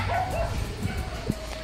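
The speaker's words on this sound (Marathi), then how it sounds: "कुत्र्यांमध्ये भांडणं चालू आहे." At an old wada near the Juna Balaji temple in Manwat, dogs scuffle with short yelps, whimpers and barks a little way off, over a murmur of background noise and faint voices.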